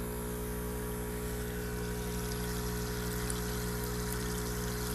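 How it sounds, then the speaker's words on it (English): Ozonator bubbling water, a steady, close, continuous fizzing and gurgling churn with a constant low mechanical hum underneath, no talking. "This is the ozonator. See, there's that, but check out the bubbles."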